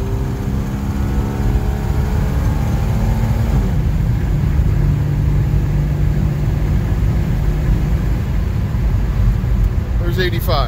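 Slant Six car engine fitted with a 600 Edelbrock carburetor, heard from inside while driving: a steady, loud rumbling drone that holds its pitch, then settles lower as the car slows.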